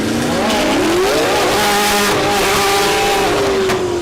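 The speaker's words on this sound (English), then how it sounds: "That Ford Durango." A Ford Durango makes a drag racing pass down the strip at Mid America Dragway, its engine pulling one loud, continuous note that climbs and holds with a steady roar across the run.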